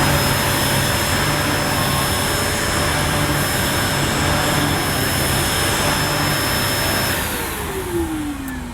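A Dyson DC05 Motorhead vacuum cleaner motor runs with a loud, steady high-pitched whine and airy roar, then begins winding down near the end as the pitch drops.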